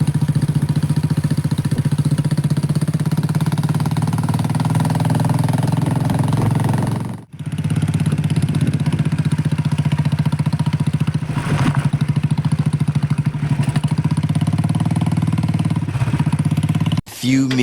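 Motorcycle engine droning steadily while riding through Kerala, a loud continuous mid-pitched hum with brief dips, apparently passing under something, and heavy wind rush over the microphone.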